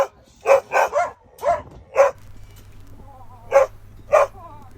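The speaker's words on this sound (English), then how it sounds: "Needless to say, this was one happy dog." An excited dog barks and yips in a run of sharp, separate bursts with uneven spacing, close and fairly loud, while a low steady hum sits underneath during the second half.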